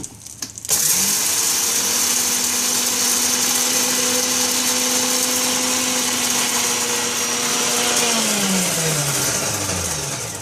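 An electric mixer grinder whirs up loudly while grinding sesame seeds, salt and tamarind into chutney, holding a steady high whine for several seconds before winding down.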